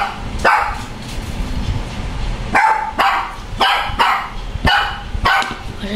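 A dog named Shadow barks in sharp bursts, a couple of loud yaps near the start and then a quicker cluster of barks later, fairly close in a home setting with a low background hum.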